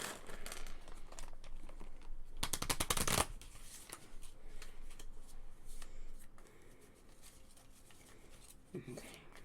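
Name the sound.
shuffling game cards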